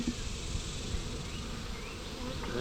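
Dense, continuous buzzing of many honeybees inside a hive box, a close steady drone that swells slightly as the colony grows agitated on a hot day.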